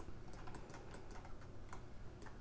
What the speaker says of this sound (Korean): 컨트롤 키 눌러서 더블 클릭